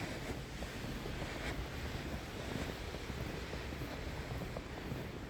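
Waves breaking on a beach during a winter walk, a steady broadband wash of surf roaring continuously, mixed with gusty wind buffeting the microphone, with no talking.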